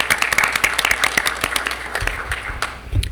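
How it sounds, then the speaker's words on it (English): Applause from the audience at a school district board of education meeting, a short burst of scattered clapping that thins out toward the end, with a voice briefly heard under it. "You deserve a round of applause."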